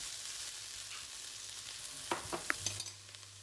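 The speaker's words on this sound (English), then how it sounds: "I'm giving those a stir. And I'm now going to add in the spices we ground earlier." Vegetables for a cauliflower and pea curry sizzle softly in a pan as ground spices are stirred in, with a few sharp clicks and scrapes of the spoon against the pan toward the end.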